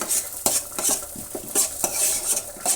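Chutney ingredients stirred and fried in a pan, with repeated scraping strokes of a utensil against the pan over a soft sizzle, close and fairly quiet.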